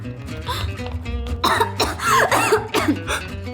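Several harsh coughs from a person with a cold, close and fairly loud, with a faint steady hum in the background.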